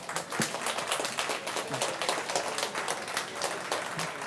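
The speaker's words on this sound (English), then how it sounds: "please give them a applause" Applause at a university wine-tasting event as a crowd claps for a competition team, many hands in a lively, slightly uneven patter that holds steady for several seconds with no voices over it.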